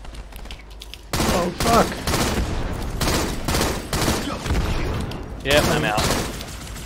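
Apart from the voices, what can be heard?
gunfire in the video game Halo: The Master Chief Collection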